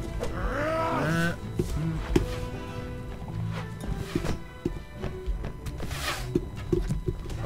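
Horse hooves in the Mount and Blade Warband game, a steady clip-clop of hoofbeats beneath a busy battle mix of shouts and bleat-like voices, moderately loud and continuous.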